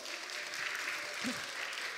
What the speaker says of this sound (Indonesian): Tepuk tangan untuk Matthew